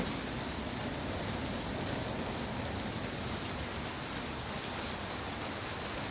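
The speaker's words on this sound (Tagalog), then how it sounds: "Unang ulan ng yelo." Dense, steady hail pelts a surface in Tel Aviv, Israel, a constant hiss of countless small impacts, with no voices.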